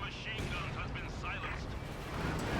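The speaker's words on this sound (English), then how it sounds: "that's actually the barrage by the SU-76" SU-76 artillery barrage in the video game Company of Heroes 2, a dense roar of distant booming shell impacts and rumbling explosions, steady and unbroken, beneath a commentator talking.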